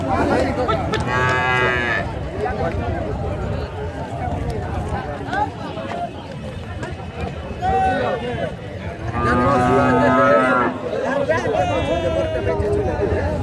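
Desi cattle moo loudly several times amid the busy bustle of a cow market, with people talking and moving around them.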